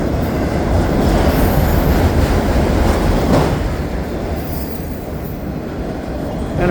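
A CPKC intermodal freight train rolls slowly past close by at night at Dorval station in winter, with a steady, heavy rumble and rattling wheels, loud throughout and easing slightly toward the end.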